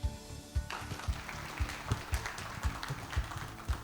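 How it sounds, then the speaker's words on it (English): An audience at an essay competition prize presentation gives a short round of applause, scattered claps with a few stronger beats, fairly faint and distant in the hall. "Please, another round of applause."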